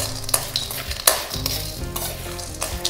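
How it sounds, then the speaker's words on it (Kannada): Chana dal and urad dal fry in hot oil for a South Indian vangibath, giving a steady close sizzle with stirring scrapes and occasional utensil clinks, no voices. "ಕಡಲೆಬೇಳೆ ಸ್ವಲ್ಪ ಬಿಸ್ಕೆಟ್ ಕಲರ್ ಬರೋವರೆಗೂ ಸ್ವಲ್ಪ ಫ್ರೈ ಮಾಡ್ಕೊಂಬಿಡೋಣ"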